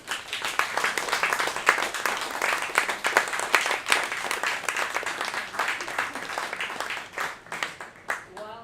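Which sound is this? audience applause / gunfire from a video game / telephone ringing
audience applause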